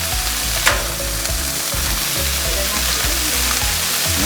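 Swiss steak fries on a Blackstone griddle beside a lake with a loud, constant, close sizzle and a few faint scrapes, and no voices.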